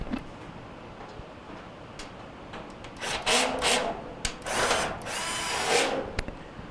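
A cordless drill drives screws into a Kenmore dryer panel during a no-heat repair: short, close whirring bursts separated by pauses, with faint clicks in between.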